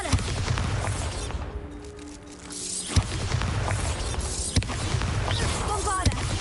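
Bombarda blasting-spell explosions in Hogwarts Legacy: several sharp, punchy booms land a second or two apart over a constant rumbling battle ambience, fairly loud and close.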